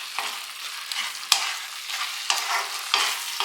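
A kalakand milk mixture with ghee is stirred in a pan, the spoon scraping in repeated strokes over a soft bubbling sizzle, near and without talk; one sharp knock stands out midway.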